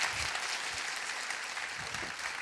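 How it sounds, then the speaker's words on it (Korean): Clapping from a church congregation during a contemporary Sunday worship service, a steady wash of many hands filling the room for the whole moment without any voices. "박수를 치시려면 치시고 말려면 말가야 되는데,"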